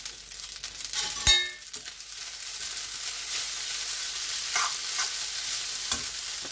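Prawns frying in a pan with garlic and chilli, a steady loud sizzle with a metallic clang and scraping stirs near the start, close and continuous without talk.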